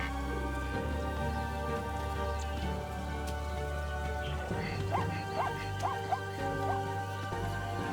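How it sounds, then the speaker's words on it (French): Rain falls steadily on open plains as migrating herds push south, a continuous soft patter and drip throughout, with a few faint higher calls standing out partway through and no speech. "le ciel s'ouvre et inonde les plaines d'une pluie longtemps attendue"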